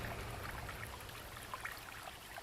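Flowing river water, a quiet, continuous babble and trickle with small splashes, heard alone.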